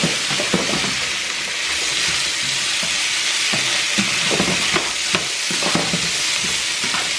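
Mushrooms and vegetables stir-fry in a pan for a curry shrimp stir fry, a constant loud sizzle and hiss broken by irregular scraping stirs and clacks, with no talk.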